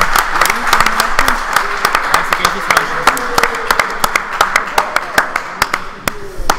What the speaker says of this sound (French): Allez, on applaudit là. On applaudit.